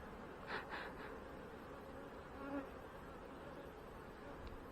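Honey bees hum steadily at an open hive during an inspection for honey and swarm cells, the colony apparently preparing to swarm; the low buzz is faint and continuous, with a few louder swells as bees pass close.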